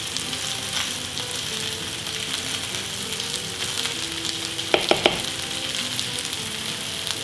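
Sliced apples cooking in a pan, a continuous even sizzle with a few brief clinks of a utensil midway, close and steady with no talking.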